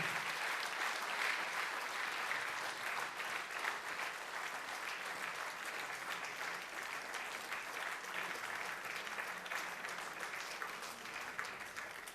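Applause from an audience at a municipal holiday ceremony in Ljutomer, a dense, steady clapping that holds at an even level for about twelve seconds without pause.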